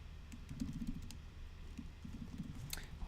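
Computer keyboard typing in a quiet room, faint scattered key clicks in short irregular bursts over a low background hum, with no talking.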